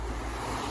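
Sea waves wash onto a beach in a steady broadband roar, with wind buffeting the microphone, loud and continuous with no talking.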